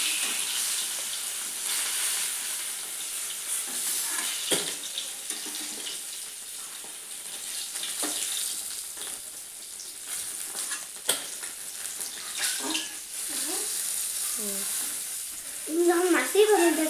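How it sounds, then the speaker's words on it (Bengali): Fish frying in hot oil in a wok, a steady close sizzle with crackling bursts and occasional utensil scrapes, louder sputtering near the end. "আরও মাছ বাকি ছিল, এগুলিও ভালোভাবে ভেজে নিচ্ছি"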